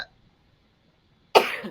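A single close, abrupt sneeze bursts out after near silence, short and breathy at the end.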